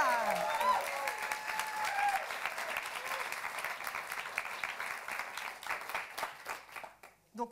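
An audience applauds in a hall at a science-communication contest, sustained clapping that fades toward the end, with a voice briefly speaking over it.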